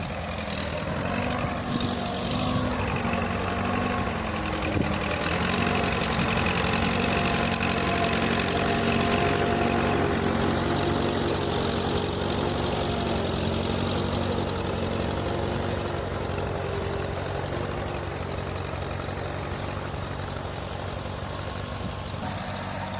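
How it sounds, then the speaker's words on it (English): A 1966 gasoline-engine tractor runs at the Eastern Shore Plow Day 2025, its engine chugging steadily and fairly loud at a constant idle-like pace for over twenty seconds, with no talk. "same tractor as mine, except that's the ag version and that's the gasoline engine version"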